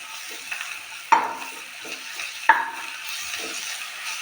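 Ginger, garlic and green chili paste fries in oil in a pan with a soft, steady sizzle, broken by two sharp clinks of a utensil scraping and stirring, close and without talk.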